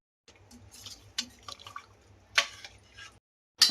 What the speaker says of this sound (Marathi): गरम पाणी टाकू मटणात